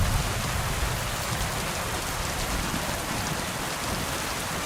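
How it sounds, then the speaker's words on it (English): Steady rain in the game Kingdom Come: Deliverance 2, a dense, even hiss of falling drops that stays constant and fairly loud throughout, with no talking. "Dare not stick out your tongue because it might melt off with all the acid rain."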